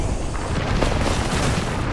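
Grenade blasts in Apex Legends, a loud, continuous rumbling boom that fills the clip with heavy low-end roar and no talking.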